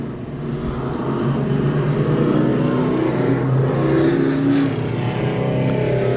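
Race cars roar around the oval at Claremont Motorsports Park during an eight-lap heat, engine noise sustained and dense throughout, with the pack's drone swelling slightly mid-run; no voices over it.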